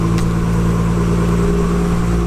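A Nissan 240SX S14 with an RB25DET engine idles with a steady, close, low rumble and even hum, holding constant throughout with no voices.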